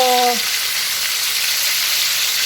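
Pork belly liempo sizzles and crackles in hot oil in a frying pan, a loud, continuous hiss after a brief tonal clink at the start, with no talking.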